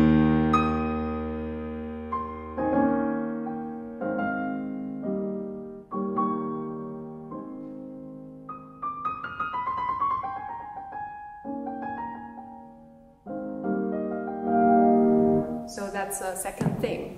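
Solo piano plays the second theme of Beethoven's Sonata Op. 111 at a lecture recital: tender, dotted-rhythm chords and melody in a clear, moderately quiet performance, phrases separated by short pauses, no talking.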